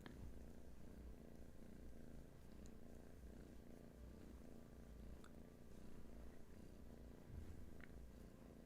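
A kitten purrs close up in a soft, continuous rumbling loop, quiet and steady with occasional faint clicks and no talk.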